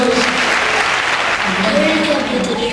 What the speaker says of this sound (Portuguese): Vamos dar uma salva de palmas a Jesus hoje.